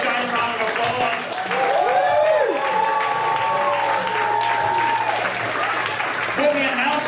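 A crowd applauds in a sustained, dense roar of clapping, with voices cheering and talking over it throughout.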